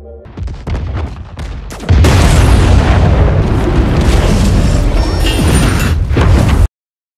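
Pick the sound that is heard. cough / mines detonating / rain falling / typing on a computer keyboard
mines detonating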